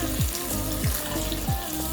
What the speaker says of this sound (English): So we're placing the water now.